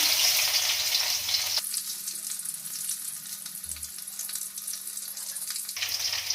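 Garlic and dried chillies crackle and sizzle steadily in hot tempering oil, a dense close frying hiss that continues for several seconds without speech.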